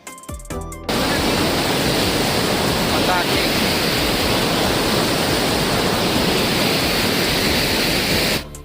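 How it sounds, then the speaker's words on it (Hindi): Loud, steady roar of a mountain river rushing near a bridge on the trail from Sonprayag to Kedarnath, a dense continuous wash of water noise filling the clip after a brief opening of other sound. "आप ना नदी का आवाज सुनो दोस्तों"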